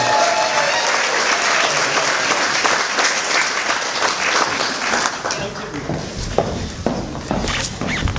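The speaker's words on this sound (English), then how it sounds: "Give her a round of applause." Audience applause at an annual general meeting, sustained, loud clapping from a sizable crowd that thins out toward the end, leaving a few individual claps and some voices.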